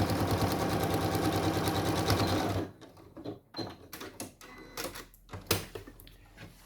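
A domestic sewing machine top stitching along a skirt pocket edge runs in a loud, steady mechanical chatter for over two seconds, then stops, leaving scattered handling clicks and rustles of fabric.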